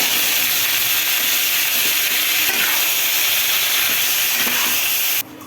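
Greens hit a hot pan of fried onion, garlic and chili in a home kitchen, with a loud, steady hiss of frying that runs unbroken for several seconds before cutting off abruptly.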